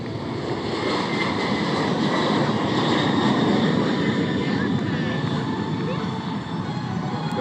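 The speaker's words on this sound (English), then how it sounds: "the power comes up, the nose comes up, and off they go again" A jet airplane at an air show throttles up and takes off again, a steady loud engine roar building and holding close by, with a commentator talking over it.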